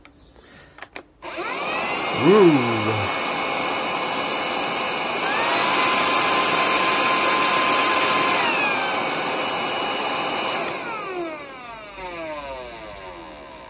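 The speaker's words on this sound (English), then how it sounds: "Just a little sneak peek of my new vacuum cleaner." A new vacuum cleaner starts up and runs with a steady high whine and airy roar, its pitch shifting slightly mid-run before winding down at the end; a brief voice exclamation comes near the start.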